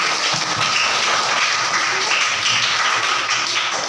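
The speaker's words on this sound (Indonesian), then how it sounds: "Oke, tepuk tangan." A classroom of children claps hands together in a dense, steady burst of applause, loud and close, with no talking over it.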